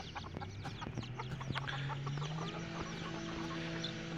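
A small backyard flock of about eight chickens, a hen and a young rooster clucks and murmurs continuously nearby, with layered soft calls and a few higher squawks and no talking.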